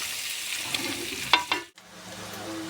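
Bitter gourd frying in hot oil in a pan gives a soft steady sizzle, interrupted by a few brief stirring clatters and a sudden drop before the frying hiss resumes, faint and close.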